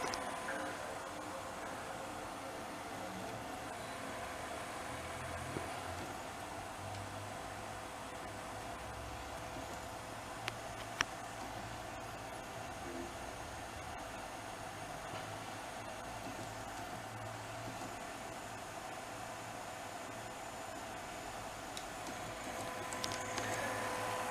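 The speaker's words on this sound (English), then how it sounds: "See now the motor spins up." A PlayStation 2 console's disc motor spins up after a cleaning of its very dirty interior, giving a faint, steady mechanical whir with a thin tonal hum that holds evenly throughout, with a couple of small clicks.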